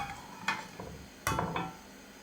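Homemade tomato sauce ladled into a heated cast iron pan for shakshouka: a few close metallic clinks and soft wet splats arriving in short separate bursts over a faint low hiss, with no talking.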